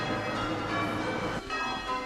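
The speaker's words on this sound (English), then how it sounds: "Here the bells rang out at a cost of 5 shillings" Parish church bells ring in Little Crosby, a dense wash of overlapping tones that stays steady and full, with one brief dip before the peal carries on, and no voices.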